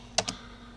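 Two quick key clicks sound close together on a computer keyboard while a Linux command is typed, crisp and near, followed by quiet.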